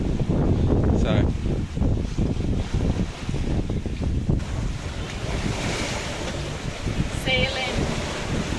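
Strong wind and surf rush around a sailboat beating upwind at sea, a constant loud roar of gusts and waves with mic buffeting; a few faint voices come through briefly near the end.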